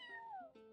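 A single drawn-out cat meow from a video game, clear and fairly close, with its pitch falling toward the end before a faint tail of sound.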